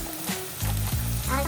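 Onions sizzling and frying in hot oil as a cinnamon stick is dropped in for biryani, a steady close crackle with a brief stir and a voice speaking over it.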